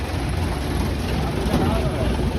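A 75-year-old vintage World War 2 truck idling after being started, a steady low engine rumble that stays constant and close throughout.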